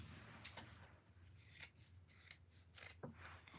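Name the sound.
scissors cutting fabric kitchen towels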